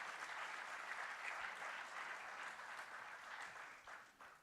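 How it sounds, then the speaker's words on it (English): An audience at an award ceremony applauds a winner from Nepal, a broad wash of steady clapping from many people that thins and fades toward the end. "an extra round of applause please for our friends from across the border"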